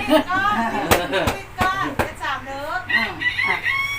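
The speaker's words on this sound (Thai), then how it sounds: "อันนี้ไก่ตัวเมีย" A hen at a Phu Thai-style housewarming gives drawn-out, wavering clucks and calls in several close, fairly loud bursts, with sharp clacking hits falling between them.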